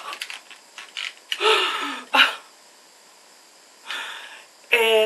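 A strong plastic clamp is handled up close, giving a few scattered clicks and ratcheting snaps separated by quiet pauses.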